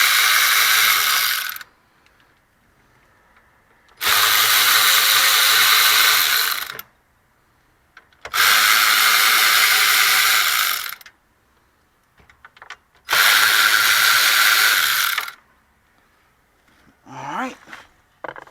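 A ratchet backs out 7mm bolts from the stereo assembly of a Ford F-150, in four long bursts of rapid clicking, close and loud, separated by quiet pauses with faint handling noises.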